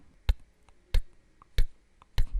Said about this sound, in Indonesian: bisa dengan ketukan jari